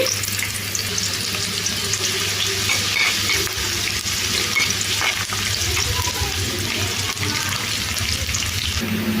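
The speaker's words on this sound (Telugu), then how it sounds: "సన్నగా కట్ చేసిన ఉల్లిపాయ ముక్కలు అయితే వేసుకుంటున్నాను ఇవి దోరగా ఫ్రై అయిపోవాలి" Thinly sliced onions fry in hot oil with a loud, continuous sizzle and crackle, a low stirring rumble beneath and no talking.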